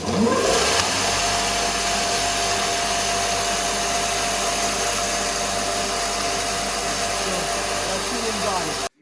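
A grain grinder mills wheat with a loud, steady motor whine and dense rushing grind that stays constant for several seconds before stopping abruptly.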